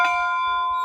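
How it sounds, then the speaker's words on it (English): A single strike of the bell on an old school building in a Nebraska state park rings out loud and close, its bright metallic tone holding steady and sustained. "The old school had a bell on it with no wards against rogue ringers"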